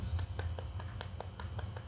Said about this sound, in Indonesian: Boleh tepuk tangan untuk Siska